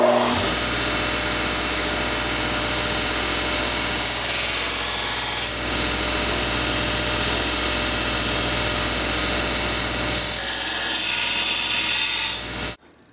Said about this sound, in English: Then we'll start grinding.